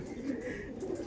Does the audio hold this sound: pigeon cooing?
yes